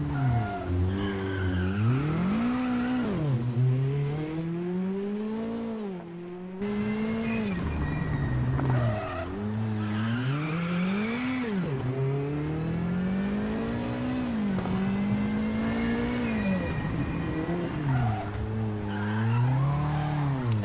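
Rally car in the WRC7 racing game at the Monte Carlo Rally, engine revving and rising and falling through gear changes with repeated handbrake skids and tire squeal, loud and continuous.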